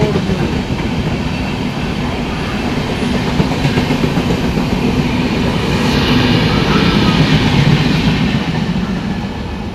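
Thiruvananthapuram–Lokmanya Tilak Netravati Express passing Irinjalakuda railway station, a loud continuous rumble with rhythmic clickety-clack of wheels on rail joints, close by and sustained throughout.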